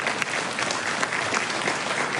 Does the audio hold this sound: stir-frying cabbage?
no